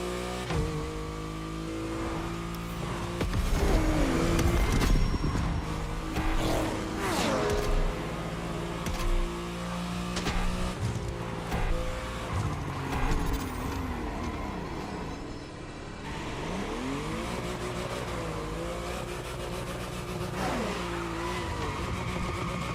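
Ferrari 365 GTB4 Daytona engine in The Crew Motorfest, loud and continuous, revving and shifting through gears as it accelerates over a steady roar, with a deeper drone and swelling pitch sweeps throughout.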